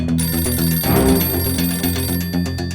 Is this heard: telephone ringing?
yes